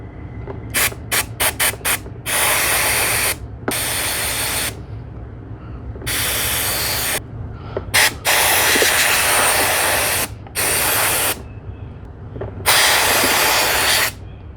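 Steam cleaner spraying a baitcaster fishing reel, bursts of loud close hissing spray, first in quick short puffs, then in longer blasts of a second or two separated by brief pauses.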